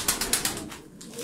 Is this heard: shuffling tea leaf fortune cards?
no